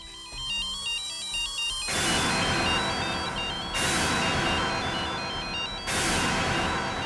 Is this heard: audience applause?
no